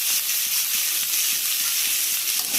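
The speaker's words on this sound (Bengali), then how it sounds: "কাঁচামরিচ পেঁয়াজ দিয়ে একটু ভাজা ভাজা করে সবজিগুলো একটু হালকা ভেজে নেব" Vegetables frying in oil with green chili and onion, a steady close sizzle and hiss with faint stirring scrapes running throughout without pause.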